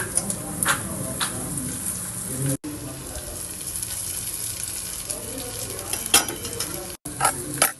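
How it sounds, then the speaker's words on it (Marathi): Soaked poha with turmeric is stirred in a frying pan, a spatula scraping and clinking over a soft sizzle, with occasional louder knocks against the pan and a voice talking now and then. "हळद टाकूया, मग फिरून घेऊया, भिजून ठेवलेले पोहे आपण ह्यामध्ये टाकूया।"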